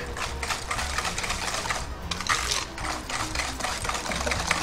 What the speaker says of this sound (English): So I'm just whisking it all so it all comes together.